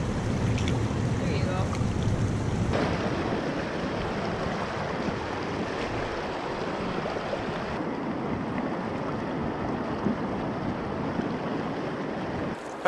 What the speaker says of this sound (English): Paddling back upstream just a little ways to get back to the access point